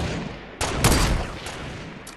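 Rapid bursts of gunfire in a shooter video game, a few sharp close volleys and quicker rattles over a steady background of game noise, with no talking.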